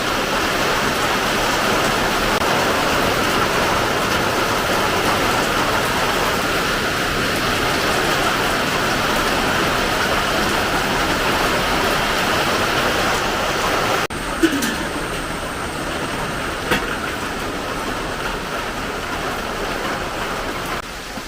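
Steady, loud downpour of heavy rain roaring without a break, with a couple of brief knocks in the second half.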